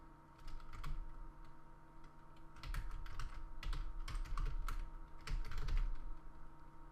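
Rapid clicking of keys on a computer keyboard during programming, coming in irregular bursts with short pauses, close and fairly quiet over a steady electrical hum.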